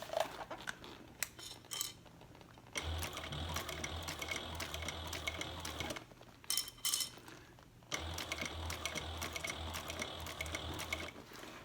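A sewing machine topstitching along the edge of a handbag, a steady whirring, clattering run that pauses briefly twice before resuming, close and fairly quiet with no talk.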